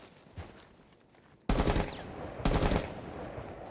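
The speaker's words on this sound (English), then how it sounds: "More gunshots will ring out." Automatic gunfire in the tactical shooter Rainbow Six Siege at a pro esports match, two loud sustained bursts from about 1.5 and 2.5 seconds after a quieter stretch of faint game noise.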